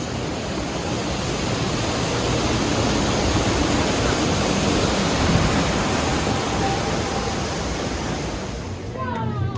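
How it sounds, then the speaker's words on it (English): Waterfalls at Animal Kingdom theme park make a steady, loud broadband rush of falling water that runs unbroken and fades out briefly at the very end. "See if I can get these waterfalls."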